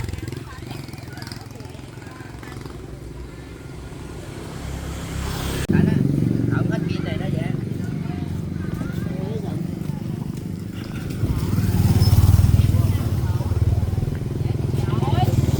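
Motor scooters buzz past on a busy street in Vietnam, engines rising and fading near and far, with voices chattering underneath.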